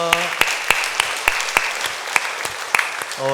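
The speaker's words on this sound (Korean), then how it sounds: "박수로 영광 올려드리겠습니다" A church congregation at a Sunday daytime worship service claps in a steady, evenly spaced rhythm of sharp beats. Sustained tones sound briefly at the start and end.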